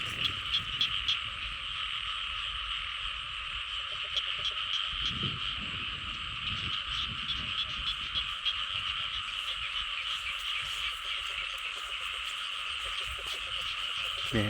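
A dense chorus of frogs croaks steadily and loudly at night near clear water, the calls overlapping without pause across the whole stretch, with a shrill insect-like drone above and a few faint low thumps beneath.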